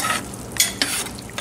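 Goat tallow rendering in an Instant Pot gives a soft, steady bubbling sizzle with a few brighter pops and crackles, heard close and alone with no talk.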